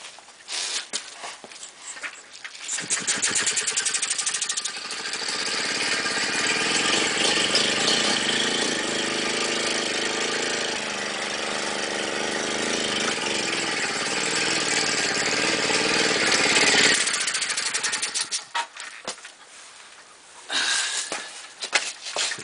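A reassembled VAP4 auxiliary bicycle engine runs loud and close for about fourteen seconds with a buzzing, rattling drone, framed by quieter handling sounds before and after.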